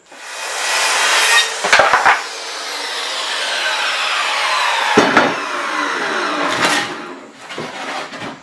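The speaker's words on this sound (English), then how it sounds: "So I'm just going to get this piece of wood cut off to where I think it should be" A slab of live-edge black walnut is cut through with a power saw in a workshop, a loud sustained whining cut with a few sharp knocks and pauses as the piece comes off.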